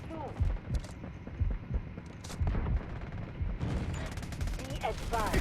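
Delta Force Mobile gameplay, with bursts of rapid gunfire and sharp shots over a low background hum. Someone talks excitedly over the firing, and the shots sound fairly close and loud.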